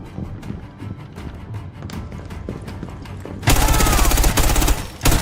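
Gunfire in Rainbow Six Siege: scattered shots and thuds give way to a sudden, loud, sustained burst of rapid automatic fire near the end.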